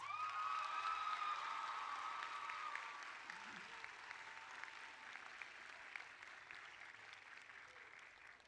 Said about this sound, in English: Graduates, please give your parents and families a mighty round of applause.